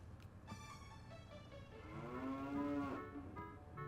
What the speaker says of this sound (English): So we have a cow here